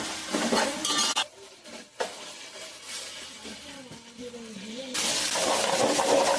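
A spoon clinks and scrapes through chicken biryani mixture as ginger garlic paste is stirred in, with metallic knocks against the pot, a short stretch of talking in the middle, and brighter scraping toward the end.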